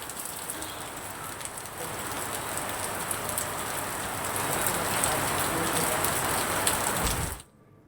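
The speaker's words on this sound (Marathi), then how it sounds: "मुसळधार पावसानं हजेरी लावली आहे" Steady, dense monsoon rainfall in Ratnagiri hisses continuously, growing slightly heavier midway before cutting off abruptly.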